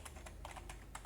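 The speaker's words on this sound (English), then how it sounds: "by typing google.com." Quiet, quick typing on a computer keyboard, a rapid irregular run of light key clicks over about a second.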